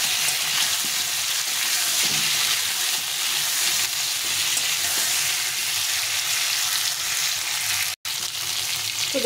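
Hog plums (amra) for pickle fry in oil, giving a loud, continuous close sizzle with occasional stirring, briefly cut off near the end, with no talk.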